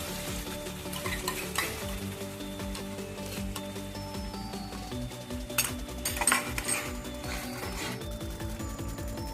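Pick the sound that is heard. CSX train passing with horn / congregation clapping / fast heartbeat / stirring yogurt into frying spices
stirring yogurt into frying spices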